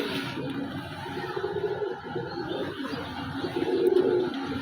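Caged pigeons coo in a low, steady murmur that runs throughout, close by and fairly loud, with no talking.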